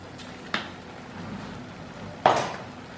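A spoon stirs turmeric, coriander-cumin powder and salt into a cooking pot of pointed gourd gravy. Two distinct metallic scrapes and clinks land about two seconds apart against a quiet background.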